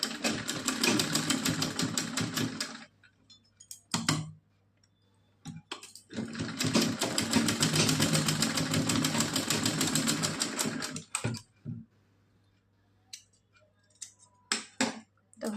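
A sewing machine stitching a small cotton doll dress, running in two rapid clattering bursts of about three and five seconds, separated and followed by quiet gaps with a few soft clicks and handling sounds.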